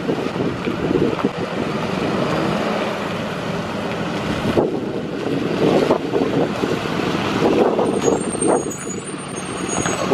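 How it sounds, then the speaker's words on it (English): School bus pulling up to a fuel pump at a bus yard, its engine rumbling steadily under wind noise, with short hissing air brake releases, close and loud. "here's a bus coming here for fuel."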